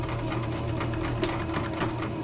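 Sewing machine running steadily in reverse to back-stitch fabric for a DIY solar curtain, a continuous close mechanical whir with fast needle clatter and no talking.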